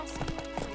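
Horse hooves clip-clop in The Witcher 3, a quick run of close, moderately soft hoofbeats in an even trotting rhythm over a low steady background hum.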